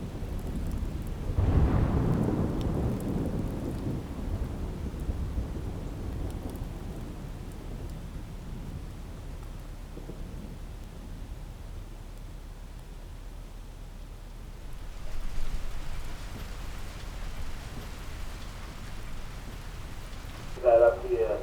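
A thunderstorm with lightning and rain: a loud thunder rumble rolls in early and fades, then rain hisses steadily later, with a brief sharper crackle at the end.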